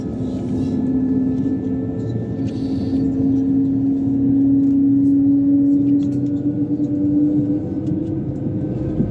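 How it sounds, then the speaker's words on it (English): A steady low engine drone from an Airbus A220-300 during engine start, with a rising tonal hum, the so-called whale sound, that swells and holds like a long moan, continuous throughout. "What you just heard now, the plane do, is called the so-called whale sound"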